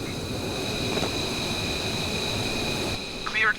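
A DC Designs F-15 jet in Microsoft Flight Simulator spooling for takeoff at Langley, a steady high-pitched engine whine and rumble with a brief shift near the end.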